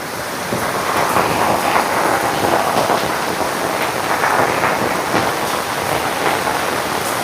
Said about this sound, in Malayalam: ഈ മഴ ഇങ്ങനെ നിൽക്കുകയാണെങ്കിൽ നമുക്ക് വെള്ളം കയറാനുള്ള എല്ലാ സാധ്യത ഉണ്ട് കേട്ടോ